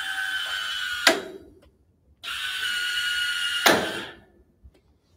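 Remote switch actuator closing a molded-case circuit breaker: two spells of steady motorized whirring, each ending in a sharp mechanical clack, close and clear with no talking.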